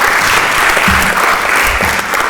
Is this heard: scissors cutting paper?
no